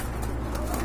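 Pigeon cooing at a bird market where a pair with a baby is on sale, soft low coos under steady background noise and murmur of nearby voices.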